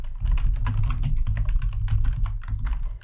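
Rapid close typing of JavaScript code on a computer keyboard, dense overlapping key clicks in a continuous run over a low hum, with no talking.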